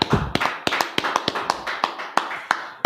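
A group of people clap in sharp, irregular bursts at a church Bible show, about a dozen loud close claps over a few seconds with no voices.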